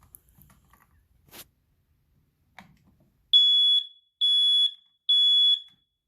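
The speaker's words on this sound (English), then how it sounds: "So here's my smoke alarm." A few faint clicks and handling taps, then three loud, shrill, evenly spaced beeps from a home smoke alarm being tested, each lasting about half a second.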